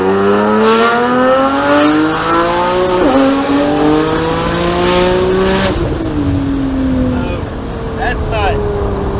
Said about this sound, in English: So when I said rev, I didn't know it was gonna be like eardrums blowing out.